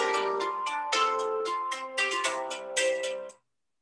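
A mobile phone ringtone plays alone during an indoor talk, a bright melodic tune of repeated notes lasting several seconds and then cutting off abruptly.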